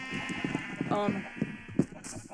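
Blocky sheep in the video game Minecraft bleat a few times in short, wavering calls, mixed with other farm animal noises, under someone talking.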